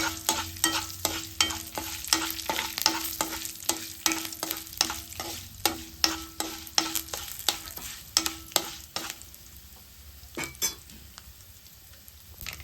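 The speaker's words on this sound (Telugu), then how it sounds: "తాలింపు అయితే వేగిపోయింది" A spoon scrapes around a pan of sizzling tempering with asafoetida in quick, regular strokes over a soft frying hiss. The strokes slow and stop near the end, and no one speaks.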